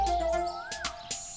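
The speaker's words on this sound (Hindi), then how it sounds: "ये चिड़ियों का चहकना सुनिए।" Birds chirping near a balcony of a Mumbai housing society flat, with a steady thin whistle-like tone and a few brief chirps and rustles, fairly close and with no voices.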